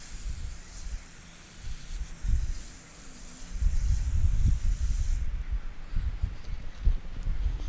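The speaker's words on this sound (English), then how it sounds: "I'm gonna test this out by spraying some water at the base here" Garden hose spraying water onto soil at the base of rose bushes, a soft hiss with low gurgling bursts and thuds as the stream hits the ground, close and continuous.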